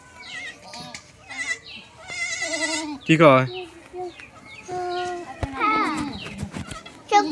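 A mother goat and her three newborn kids bleat near and loud in a farmyard, several wavering cries rising over the chatter of a child and an adult talking throughout.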